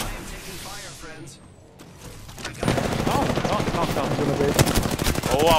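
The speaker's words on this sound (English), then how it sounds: "I am taking fire, friends." Gunfire in a first-person shooter video game: after a quieter lead-in, rapid automatic bursts and overlapping shots erupt and continue loudly to the end, with a whooshing sweep early on.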